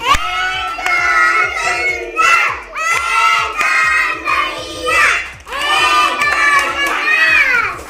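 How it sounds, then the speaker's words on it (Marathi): Excited children in a classroom shout and cheer in repeated loud bursts, with some clapping mixed in under their voices. "तिच्यासाठी जोरात टाळ्या सगळ्यांनी"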